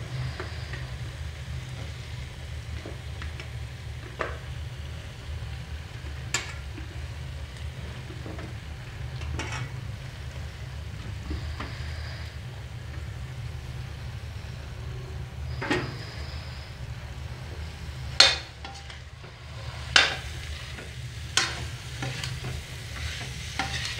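Jackfruit pieces go into fried masala in a pan, a low steady sizzle with scattered stirring clinks and a few sharper knocks near the end, quiet and close.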